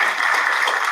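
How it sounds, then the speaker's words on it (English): A brief burst of audience applause, steady dense clapping from a room of people, loud and close for under a second. "Give him a round of applause."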